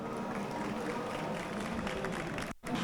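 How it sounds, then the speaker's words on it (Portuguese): Audience applause for Gol and Joana at a Black artists and entrepreneurs collective event, a dense, steady wash of many hands clapping from a crowd, breaking off abruptly near the end. "uma salva de palmas para a Gol e para a Joana"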